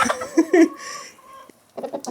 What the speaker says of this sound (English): He is the sweetest rooster.